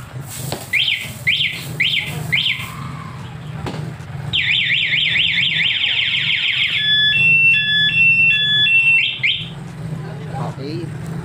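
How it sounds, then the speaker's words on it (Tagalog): A newly installed aftermarket alarm on a Yamaha motorcycle sounds close and loud, first four quick chirps, then a long run of rapid warbling siren tones shifting through different patterns, over a low background hum. "Alarm."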